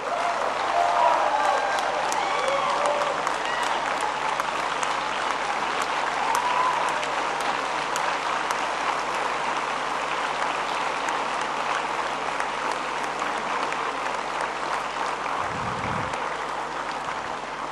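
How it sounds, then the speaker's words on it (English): Standing ovation for a graduating class at a ceremony, sustained even applause from a large crowd with occasional whoops early on, continuing for many seconds and easing slightly near the end. "Okay, let's stand and give them an ovation."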